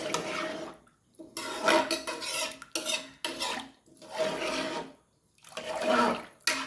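Water is poured into a cooking pot of kuthirai vaali (barnyard millet) pongal and stirred, giving repeated close scraping and sloshing strokes in rhythmic bursts with short pauses between.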